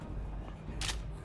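A weapon is reloaded in the video game TWD: Onslaught, heard as a single short mechanical click-clack burst against a low background hum.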